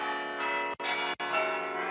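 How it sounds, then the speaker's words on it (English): A sustained bell-like alert tone resembling a bell tower rings with rich overtones, briefly cut twice by short gaps, fairly loud and close. "it's something like the bell tower, a bit louder"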